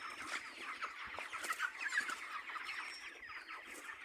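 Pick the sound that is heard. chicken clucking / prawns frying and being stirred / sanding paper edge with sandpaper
chicken clucking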